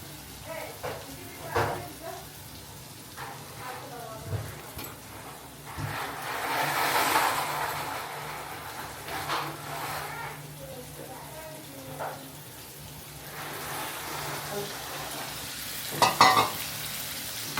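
Coriander and curry leaves fry in oil for a prawn fry, crackling and sizzling under intermittent stirring and scraping, while a person talks over the cooking.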